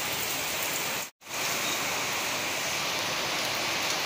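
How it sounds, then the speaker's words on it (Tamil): Heavy rain pours down in Chennai during Cyclone Fengal, a dense, steady hiss that drops out only for a moment before resuming, with no talking. "சரியான மழை."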